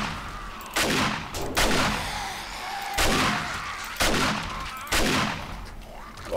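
Video game gunfire in 7 Days to Die: repeated loud, close bursts of shots about a second apart, with a player speaking over parts of the action.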